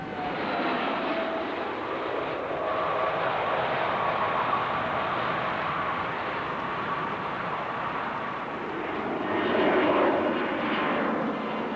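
An Airbus A310 jet airliner lands by autoland, a broad, steady roar of jet engines and rushing air that holds even throughout, swelling slightly louder near the end with no talk over it.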